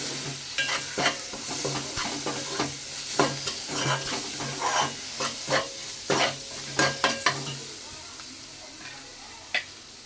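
Fried onions with turmeric are stirred in a pan for a fish curry. Irregular spoon scrapes and clacks come close over a low, quiet sizzle and thin out toward the end.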